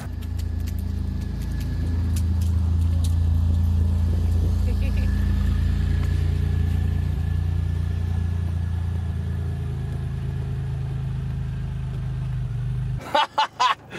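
DeLorean time machine car from Back to the Future, its engine droning at a steady low rumble while it drives, ending in a few sharp clicks and rattles as the sound cuts away; voices speak faintly underneath.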